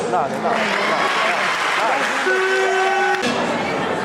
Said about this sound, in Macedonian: да им дадем еден огромен аплауз